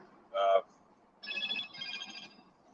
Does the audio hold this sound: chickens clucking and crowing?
no